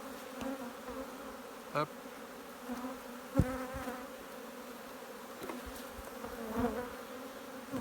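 Honeybees buzzing around an open hive frame with pollen, a steady close drone with wings passing near, alongside faint handling sounds and a brief spoken word.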